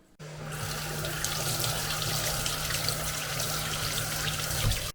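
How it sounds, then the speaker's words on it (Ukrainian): Dried mushrooms rinsed under running cold tap water in a sink, a steady close rushing stream that carries on for several seconds without speech. "І промию їх під проточною холодною водою."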